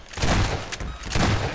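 Gunfire from a shotgun in the video game Half-Life 2, two heavy, loud bursts about a second apart with a roaring, crackling tail and no talking.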